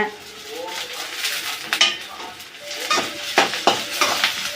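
Onions, chilies and curry leaves fry for an egg stir-fry in a pan, a steady sizzle broken by repeated scraping and clinking stirs of a utensil against the metal, close and fairly loud, with occasional speech.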